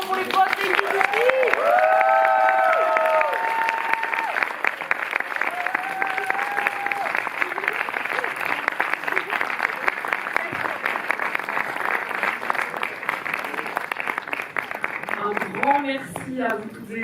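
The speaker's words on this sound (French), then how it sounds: "encore un tonnerre d'applaudissements pour les boss" Audience applause after a film screening discussion at a cinema, a continuous wash of clapping from a crowd lasting the whole stretch, with a voice speaking briefly over it at the start and again near the end.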